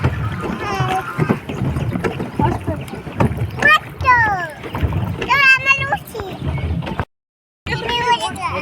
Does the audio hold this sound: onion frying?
no